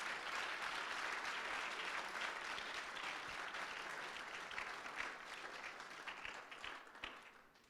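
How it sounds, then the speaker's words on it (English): An audience applauds students at the Conrad Spirit of Innovation Challenge 2017 Power Pitches, giving a sustained round of clapping that holds steady and slowly thins toward the end. "Can we get one more round of applause for all the students here?"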